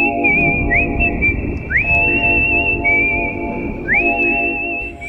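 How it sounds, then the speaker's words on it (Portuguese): A clear, close whistled melody from the film Kill Bill, with sliding upward notes, repeats its short phrase twice over a bed of sustained orchestral tones. "sempre assobia essa melodia quando vai assassinar alguém"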